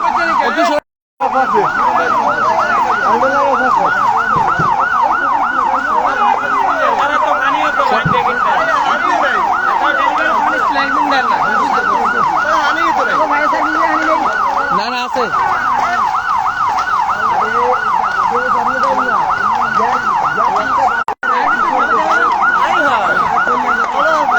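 A loud fire engine siren wails continuously, its pitch rising and falling in a fast, steady cycle, close by over a constant rumble of traffic, at a fire with gas cylinder explosion risk.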